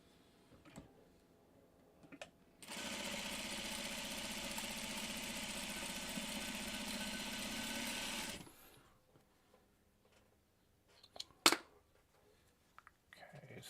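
A sewing machine runs steadily for about six seconds while stitching quilt block pieces, a close, even mechanical whir between quieter handling noises, with a sharp clack near the end.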